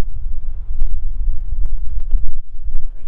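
Outdoor wind buffets the microphone in a steady low rumble, gusting continuously through the short stretch, with no talk over it.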